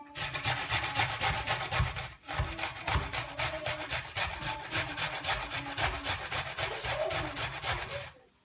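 An onion being grated on the fine side of a hand grater, a steady close rasping scrape that runs continuously for about eight seconds with one brief pause, no talking.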